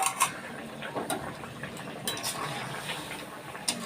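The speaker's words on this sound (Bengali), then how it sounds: "এবার ফুটে গেছে, দেবো একটু ঘি, সাথে সাথে দিয়ে দেবো হচ্ছে এই ছানাগুলো।" Chhena is stirred in hot ghee in a pan, giving a steady frying sizzle with scraping utensil clicks throughout, close and alone without speech.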